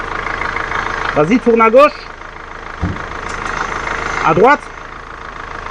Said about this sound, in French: Le moteur est tournant.